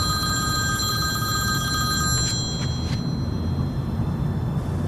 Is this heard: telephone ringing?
yes